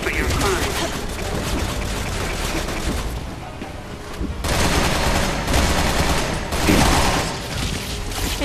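Rapid gunfire from the video game Resident Evil 6 fills the space with dense, loud bursts of shots, easing briefly before resuming, while people talk over it.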